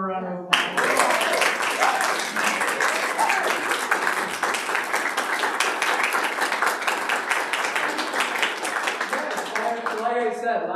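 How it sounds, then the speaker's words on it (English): An audience at an OVUCC Christmas concert applauds in a long, dense, steady round of clapping that holds for about ten seconds. "We give them one more round of applause."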